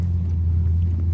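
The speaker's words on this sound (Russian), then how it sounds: "Приехала мужа машина после тюнинга. Он менял в ней звук. Ух, как рычит." A deep engine rumble from a car with a tuned exhaust sound idles steadily nearby, a low throaty drone with no talk over it.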